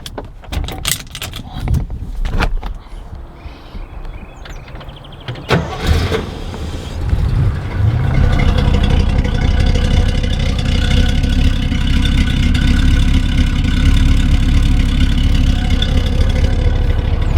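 Clicks and a brief crank lead into a Corvette engine with dual exhaust firing up, then settling into a deep, steady, throaty idle close by.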